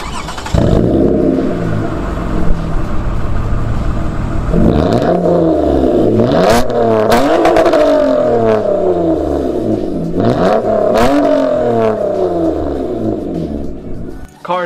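The exhaust of a tuned BMW 335i making about 500 horsepower roars loudly and close, rising through repeated revs with swooping climbs and drops, and a crackle and pop as the throttle is released.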